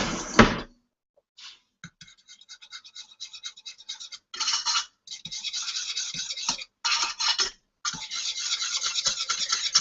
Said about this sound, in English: we're just going to kind of give this a little whisk or stir all together